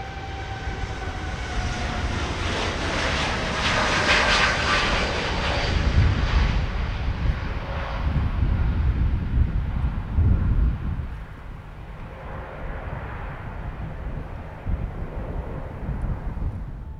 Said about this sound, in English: TUI Dreamliner, the Boeing 787, and that is on its way to Curacao.